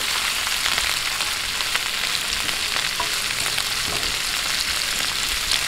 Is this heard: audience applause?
no